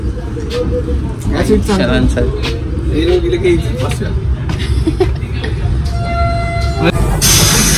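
A passenger train running toward Igatpuri, loud rumbling motion and clatter close by with a brief tonal horn near the end, while people talk over the din throughout.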